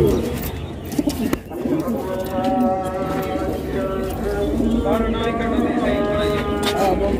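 Pigeons coo in soft, repeated low calls amid a busy bird-filled background, with other birds chirping nearby and a voice speaking at times.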